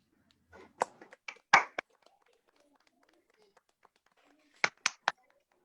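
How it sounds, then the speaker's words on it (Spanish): Scattered claps from an online audience over open microphones, a handful of sharp, isolated hand claps and snaps with gaps of near silence between, faint and thin rather than a full round of applause. "aplauso a Ivonne, por favor."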